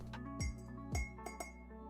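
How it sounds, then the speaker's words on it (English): A teaspoon clinks against a cup while stirring sugar in a video game, two louder ringing taps followed by a few lighter clinks, quiet and isolated. "I add 2 teaspoons of sugar and stir."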